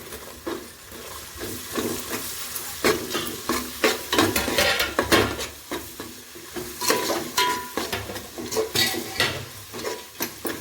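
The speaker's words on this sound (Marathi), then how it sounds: "थोडं सॉटे करायचं कांदा" Onion sautéing in a pan gives a steady, close frying sizzle, broken by repeated scraping and clinking as a spoon stirs it against the metal. No voices.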